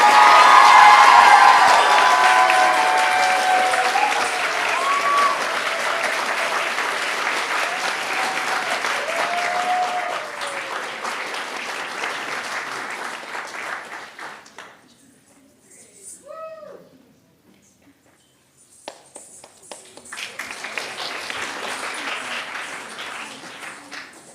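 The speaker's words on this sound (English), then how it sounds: "Give her one big round of applause." Audience applause at a Bharatanatyam arangetram: a loud, sustained crowd clapping that gradually thins and fades, then a brief lull before more scattered sound returns.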